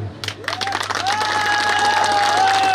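A crowd at a political rally breaks into loud clapping and cheering after a brief quieter moment, with rising whistle-like tones and raised voices riding over the applause.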